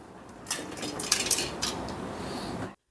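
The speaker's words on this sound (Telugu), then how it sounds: "స్టవ్ మీద మూకుడు పెట్టుకొని మనం పిండుకున్న ఈ కాకరకాయలని వేసుకుందాం" Squeezed bitter gourd pieces tipped into a pan on the stove, heard as a rising hiss with a few light metallic clinks and scrapes, close and fairly quiet, ending suddenly.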